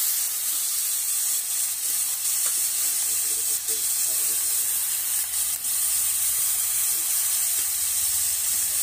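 Fresh spinach hits a hot pan for spicy aloo palak, setting off a steady, loud sizzling hiss that holds evenly throughout with no pauses.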